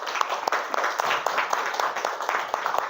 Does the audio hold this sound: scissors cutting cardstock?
no